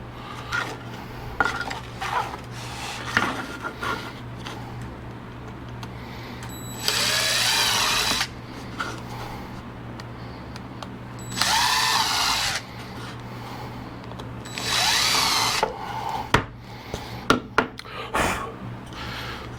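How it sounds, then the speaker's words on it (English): A power drill whirs into wood in three separate bursts of a second or two each, with workshop clatter and taps in between. "that's where I'm going to drill"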